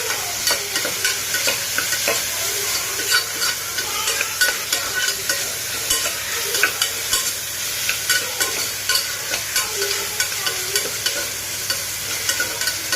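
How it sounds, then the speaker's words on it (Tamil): Beans, carrots and potatoes with turmeric being sautéed and stirred in a pan, with a steady sizzle and repeated scraping strokes running throughout, close and fairly loud, with no talk. "அதையும் போட்டு நல்லா வதக்கிக்கோங்க."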